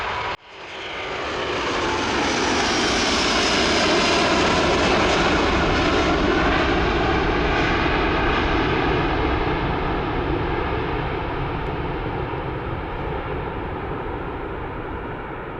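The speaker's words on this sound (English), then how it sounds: "A Delta Airbus A330-900 suffered a bird strike in its starboard engine shortly after departure." A Delta Airbus A330-900 climbs out after takeoff, its jet engines in a loud, sustained roar that swells in the first seconds and then holds steady, slowly fading toward the end, with no voices.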